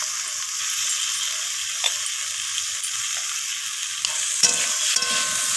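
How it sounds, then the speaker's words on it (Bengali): Vegetables with spices and a half spoonful of ginger paste sizzle and fry in a pan while being stirred, a steady close hiss broken by occasional scrapes and knocks of the spoon. "তো আদা বাটাটা দিয়ে আবারও একটু নাড়াচাড়া করে কষিয়ে নিচ্ছি।"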